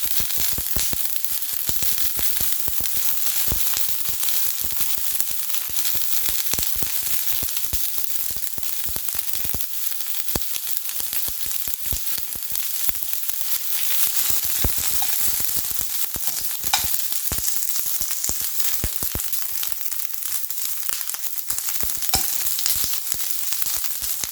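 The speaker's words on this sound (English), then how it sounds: "I'm just sauteing it a little just to get the taste" Microwaved beans sauteing in olive oil for an Easter lunch, giving a steady, close, crackling sizzle that runs unbroken from start to finish with faint stirring and no talk.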